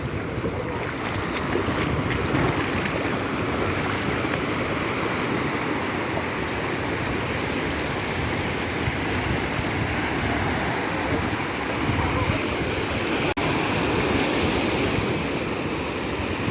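A constant wash of Black Sea waves and surf rolls onto the beach at Odesa, with wind blowing over it and no talking.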